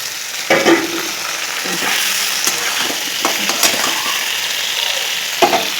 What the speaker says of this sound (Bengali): এই কচু আলুটা আমি পেঁয়াজের সঙ্গে ভেজে নেব ভালো করে